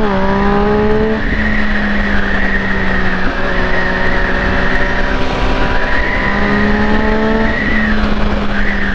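A 675 cc engine revving hard and accelerating, with rising and falling tones that climb through repeated gear shifts, loud and close with a steady roar throughout.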